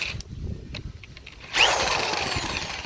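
A power drill bores into a broken, stripped lug nut stud on a car wheel, starting with scattered clicks and handling noise, then a loud high whine that keeps grinding steadily to the end.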